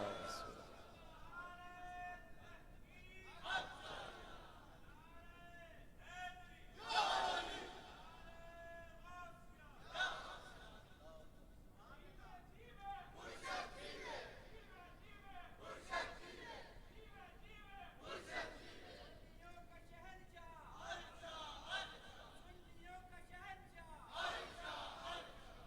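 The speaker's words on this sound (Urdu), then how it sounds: "تسی نعرے لگاؤن والے اسی طرح لگاؤندے رہو" Crowd chanting religious slogans at a gathering, repeated loud call-and-response shouts rising and falling in bursts every few seconds, with voices leading between them.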